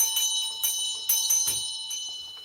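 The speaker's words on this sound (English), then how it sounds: "I'm going to ring a bell here to clear the air." A small bell is struck repeatedly in a quiet room, bright ringing tones with a rapid series of strikes that shimmer and slowly fade.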